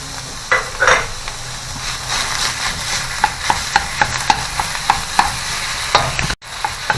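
Ground beef and onions are stirred in a hot pan, a loud close sizzle under a quick run of regular scraping taps from a utensil against the pan.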